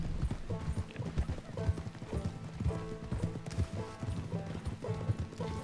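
In Red Dead Redemption 2, a small horse's hooves clip-clop in a steady, even rhythm, moderately close and continuous with no talk over them.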